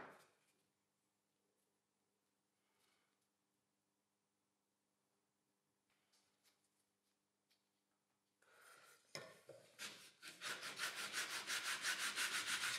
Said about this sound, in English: I sand down the washers a little to clean them and improve their adherence